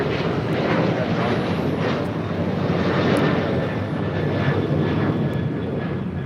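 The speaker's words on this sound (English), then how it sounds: "1374 taking off to Denver, Colorado on a 737-900ER" A United Airlines Boeing 737-900ER takes off, its jet engines producing a loud, broad, continuous roar that swells slightly and holds steady, with no voices over it.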